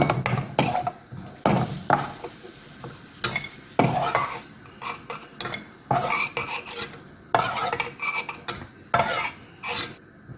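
Cashew nuts roast in a pan for semiya kesari as a spoon stirs them, giving repeated scraping strokes against the metal over a soft sizzle, loud and close with no talking.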